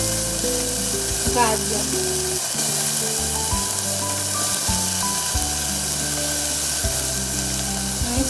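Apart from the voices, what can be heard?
vegetables sautéing in pan for daliya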